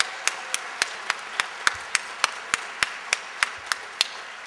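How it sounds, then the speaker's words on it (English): Sparse, evenly spaced handclaps from a small number of people, faint and steady, at a theatre gala. "Please join me in giving them a round of applause."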